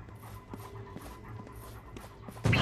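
A dog pants steadily in the game Sunset Overdrive, quick rhythmic breaths close up over faint background game sound, ending in a brief louder burst.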